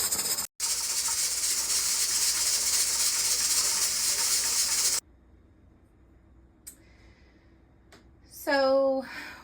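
A pressure canner vents steam while canning pork and beans: a loud, steady hiss runs for about five seconds, cuts off abruptly, then gives way to near quiet with a brief high squeal near the end.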